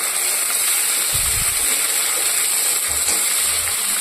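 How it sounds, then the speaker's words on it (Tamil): About a quarter kilo of small onions sauté in a pan for a Tamil prawn gravy, giving a steady, continuous sizzling hiss with no voices. "ஒரு 1/4 கிலோ அளவுக்கு சின்ன வெங்காயம், அதை போட்டு நல்லா வதக்குறேன்"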